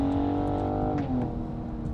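A BMW M440i engine pulls hard in sport mode, a loud sustained drone with a pitch shift midway, then continuing steadily, with no talk over it.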